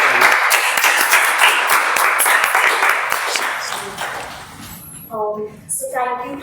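Audience applause at a Toastmasters meeting, a dense, steady round of many hands clapping that fades out after about four seconds, followed by a speaker beginning to talk.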